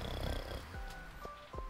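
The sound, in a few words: voice imitating snoring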